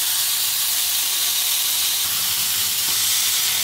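A burger patty pressed flat under wax paper sizzles on a Blackstone griddle, a loud, steady, unbroken hiss filling the whole stretch.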